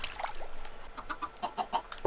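Chickens in a video game give a quick run of short, close clucks over a soft background.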